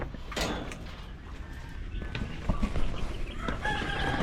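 Young pet chicks kept in a backyard pen, their chirps and clucks mixed with rooster-like fowl calls, close and steady over rustling background noise with no talk.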